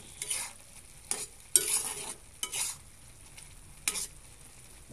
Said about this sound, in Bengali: এখন ঢাকনাটা উঠিয়ে নেড়ে চেড়ে দেব